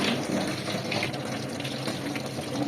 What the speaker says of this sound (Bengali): এইভাবে করে ফুটো থালা ভালো করে ধুয়ে নিচ্ছি